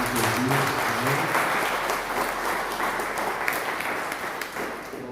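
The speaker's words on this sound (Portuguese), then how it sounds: "Quem crê, aplauda bem forte ao Senhor, em nome de Jesus." Loud, dense applause from a church congregation during a Portuguese-language worship service, a steady wash of clapping that holds for about five seconds and eases slightly at the end, with faint voices underneath.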